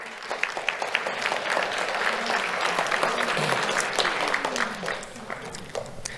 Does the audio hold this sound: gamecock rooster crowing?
no